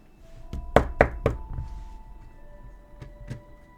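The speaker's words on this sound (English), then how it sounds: "As you knock on the door." Someone knocks on a wooden front door in a quiet indoor space, three sharp raps close together followed by a softer pair of knocks a moment later.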